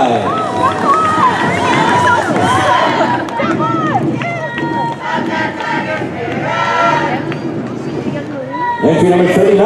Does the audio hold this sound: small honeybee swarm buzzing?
no